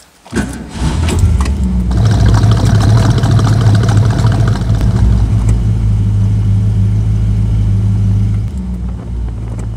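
A Ford Mustang engine starts with a sharp crank and settles into a loud, steady, deep idle that rumbles on for several seconds before dropping slightly near the end; no one speaks.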